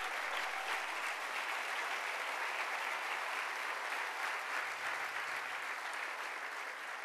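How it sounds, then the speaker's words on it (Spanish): A church congregation applauds loudly and steadily, a dense, sustained wash of clapping that fills the whole stretch without letting up. "denle un aplauso fuerte al rey"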